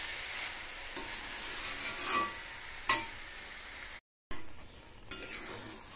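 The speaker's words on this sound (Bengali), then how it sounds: "বেশ সময় নিয়ে কিছুক্ষণ মিটলির সাথে মশলা কষাতে হবে।" Spices being stirred and fried with mituli in a pan, a steady close sizzle punctuated by occasional scrapes and knocks of the spoon against the pan.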